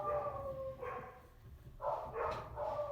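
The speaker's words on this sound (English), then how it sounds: "Excuse my dogs." A dog barks a few times in short bursts, fairly faint and somewhat distant, with a brief pause between calls.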